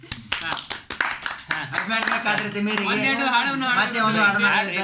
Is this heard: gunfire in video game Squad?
no